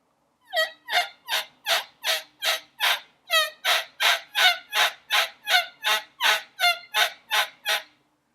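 Turkey yelps on a Turkey Reel call, played both held static and with the call opening and closing: a long, even run of about eighteen loud, raspy, close notes in steady rhythm, with no voices.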